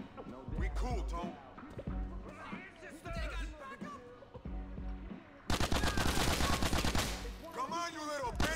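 Bursts of gunfire from Grand Theft Auto IV: The Ballad of Gay Tony, scattered single shots giving way to a dense rapid volley near the end, mixed with game voices and clatter.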